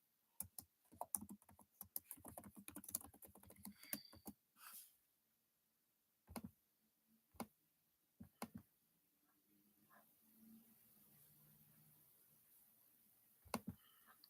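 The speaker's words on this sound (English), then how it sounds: "I'm just typing up the polls so we can get started for the lives." Quiet typing on a computer keyboard, with rapid clustered keystrokes at first, then sparse isolated taps and pauses, close and faint.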